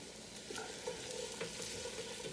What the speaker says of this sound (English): just give that a good stir. So it kind of coats the bottom of the pan